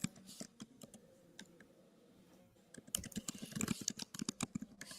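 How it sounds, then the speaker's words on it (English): Quick bursts of keyboard typing, soft at first and then a rapid, louder flurry of key clicks near the end. "I can hear her typing now."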